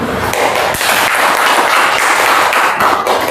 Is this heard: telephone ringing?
no